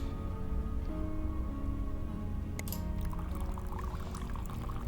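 Water pours into the water compartment of a coffee machine in a video game, a soft steady trickling fill over a low background hum, with a brief clatter partway through.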